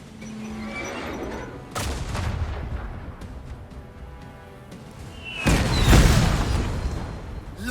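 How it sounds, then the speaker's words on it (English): Artillery strike in the video game Last Train Home: a few deep, heavy booming blasts, one early and a larger one later, rolling out over quieter battlefield ambience. "let's call in an artillery strike and make those bastards pay for their crimes"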